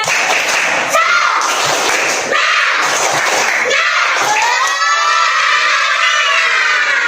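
Schoolchildren in a classroom perform a rhythmic spirit clap, bursts of sharp claps and thuds in patterned groups with children shouting and chanting along, loud and close.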